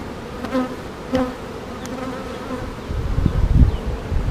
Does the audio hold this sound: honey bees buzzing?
yes